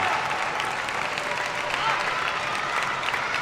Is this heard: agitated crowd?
yes